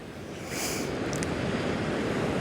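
Wind blows across the coast at Margate, a steady broadband rush mixed with distant surf that picks up in strength after a brief quieter moment.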